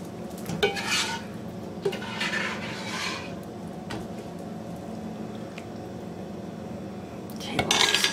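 A utensil scrapes chopped onions and tomato sauce out of a pan while making lasagna sauce, giving intermittent close scraping and clinking strokes over a low steady background hum.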